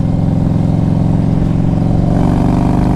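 A 2000 Harley-Davidson Road King Classic fitted with a Hypercharger intake runs loud and close, a deep throbbing engine rumble holding steady for a few seconds.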